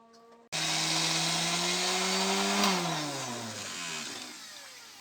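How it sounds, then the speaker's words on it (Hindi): An electric grinder grinding roasted poppy seeds starts abruptly and runs as a loud, steady, high whine, its motor pitch dropping partway through as the load changes, close by and with no talking. "और खसखस को भी हमने निकाल कर उसको ग्राइंड कर लिया है"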